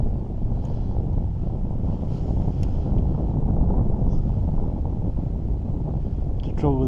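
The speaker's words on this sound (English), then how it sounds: "Trouble with the side wind" A side wind on a fishing pier buffets the microphone with a steady, loud low roar that continues throughout, with faint higher sounds barely showing above it.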